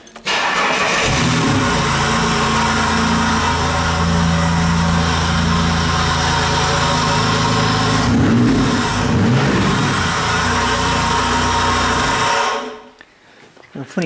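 A GMC truck engine fitted with an odd air valve cranks, catches and revs loudly up close for over ten seconds, with a brief rise in revs near the end before it cuts off abruptly.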